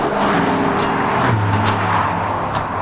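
Supercharged Saleen S351 Ford Mustang engine running loud and close, with a steady low rumble and a rising whine that builds near the end, a short burst of revving.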